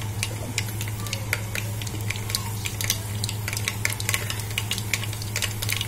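Mustard seeds sizzle and pop in hot oil with a dense, steady crackle and a constant low hiss, heard close with no voices.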